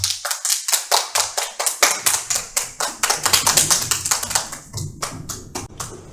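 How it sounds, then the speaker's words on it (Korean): A group at a church youth worship service claps together, a dense burst of hand claps that holds steady for several seconds before thinning out near the end. "자, 다 함께 박수로 맞이하겠습니다."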